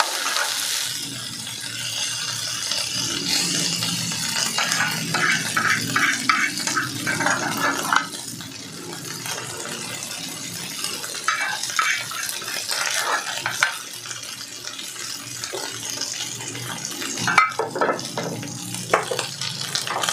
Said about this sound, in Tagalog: Isasali naman natin siya sa sizzling plate